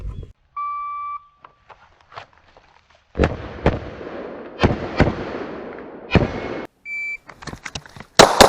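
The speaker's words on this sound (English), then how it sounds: "So, 5 shots." Gunshots crack from a drawn pistol, five sharp, loud reports spaced unevenly after a timer beep, echoing briefly with quiet gaps between.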